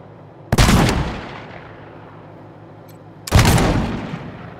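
Two heavy shotgun blasts in the video game Wasteland 3, each a sharp loud boom with a long decaying tail, spaced about three seconds apart.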